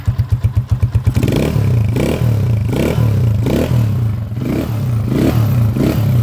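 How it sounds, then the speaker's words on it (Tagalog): A 2004 Honda TMX155 motorcycle engine runs close by, its idle thumping fast and even before rising into a louder, rough drone, with loose tank and washer rattles clattering in a repeating rhythm. "Sa tangke, ayan o, kumakalog-kalog. Tapos yung washer dito, kumakalog-kalog."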